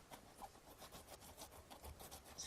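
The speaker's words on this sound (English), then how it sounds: "sawing at that coconut." A tool saws at a thick coconut husk in repeated rough, fibrous scraping strokes, quiet and rhythmic, each stroke a short rasp, with no talking.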